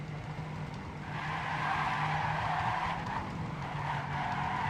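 Race car in a racing video game skidding under heavy braking into a corner: a sustained tire scrub and squeal over engine noise, swelling midway and holding steady without a break.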